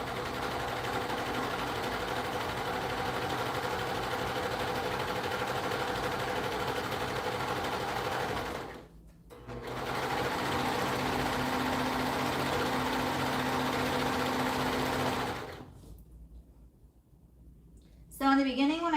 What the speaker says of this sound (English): So circles are pretty tricky to serge with